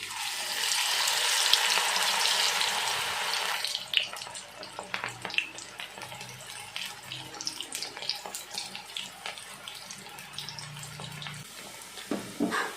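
Pasted pieces dropped one at a time into very hot oil: a loud, dense sizzle for the first few seconds, then settling into lighter scattered crackles and pops.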